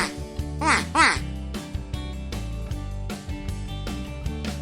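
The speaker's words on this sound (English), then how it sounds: "Here come our quacking ducks." Farm ducks quack in a quick run of calls near the start, followed by softer quacking over a bright, steady musical backing, with a voice talking along.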